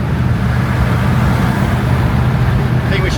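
A Chrysler car driving at full throttle on a road trip, a loud, steady, broadband engine and road roar that stays constant throughout with no breaks.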